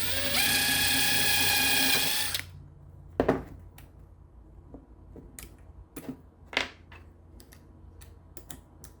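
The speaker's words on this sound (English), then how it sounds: "Okay, I'm gonna pre-drill." A power drill whines loudly for about two seconds while pre-drilling scrap wood, then stops, followed by scattered clicks and small knocks of handling.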